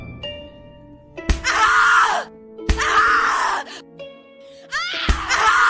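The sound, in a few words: person screaming in video game The Cat Lady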